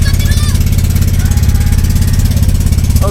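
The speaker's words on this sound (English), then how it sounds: "I'm not sure how much you heard due to the engine noise back there" A tour boat engine on Subic Bay drones loud and steady from close by, a continuous low rumbling throb with no pauses.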